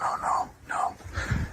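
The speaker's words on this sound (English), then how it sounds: "That sounded like something just growled at me." A low growl or snarl breaks the quiet during a night paranormal investigation near a cemetery, three rough, throaty bursts, fairly close and sounding animal-like, with no talk over them.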